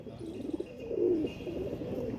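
A pigeon perched on a brick coos in a low, soft, repeated murmur, rising once to a fuller coo near the middle, heard close with no other voices.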